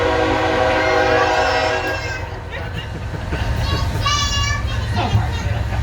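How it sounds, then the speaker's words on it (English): A train rolls past during outdoor political campaign speeches in Parkville, a steady loud rumble with clattering and a horn sounding midway, while people talk and children's voices carry over the noise. "Hold on to the Parkville train because it's Parkville."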